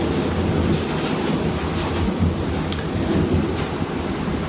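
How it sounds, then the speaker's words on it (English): Steady, loud rain pours down throughout a thunderstorm, with a faint low rumble of thunder underneath; no voices are heard. "A thunderstorm."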